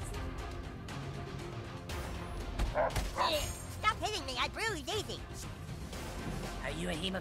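Cartoon dogs in the South Park video game yip and bark in a cluster of short, pitched bursts mid-clip, mixed with game music and effects and heard alongside talking.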